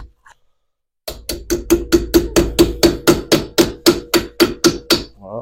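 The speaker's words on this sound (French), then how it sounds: "Donc là, marteau, hein, t'es obligé." A hammer taps a new cap onto the rear wheel hub of a Renault Mégane, about sixteen sharp metallic knocks in an even, rapid rhythm, loud and close, after a brief quiet pause.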